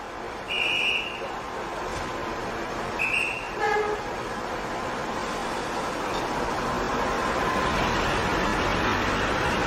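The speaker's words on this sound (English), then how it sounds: "The train started suddenly." A passenger train pulls away from a station amid a steady, loud rumble of rail noise, with two short high horn or whistle blasts early on and the running sound building as it gathers speed.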